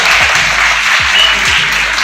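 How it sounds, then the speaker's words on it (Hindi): Loud, dense applause from a large seminar audience at a hairdressing event in Jalaun, a steady roar of many hands close by with a few low thumps underneath. "तो ताली बजा दो यार"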